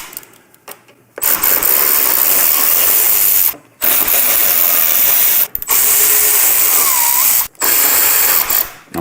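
Loud whirring of a power driver or ratchet removing Torx 30 bolts from a Harley-Davidson Road Glide inner fairing, running in three sustained bursts separated by short pauses, close up with no talk.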